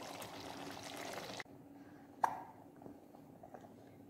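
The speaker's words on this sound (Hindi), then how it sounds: "अब मैं इसमें 2 गिलास पानी ऐड करूंगी।" Two glasses of water poured into red kidney beans being cooked in a pot: a loud, splashing pour that cuts off sharply, then a single plop and a few faint drips in the quiet afterward.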